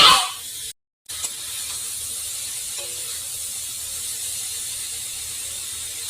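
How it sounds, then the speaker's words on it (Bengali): Jujube fruits (boroi) frying in oil in a pan, giving a soft continuous hiss and sizzle that cuts out briefly near the start, then carries on evenly and fairly faint. "এখন ভালো করে এগুলো ভাজি করে নিচ্ছি তেলের সঙ্গে।"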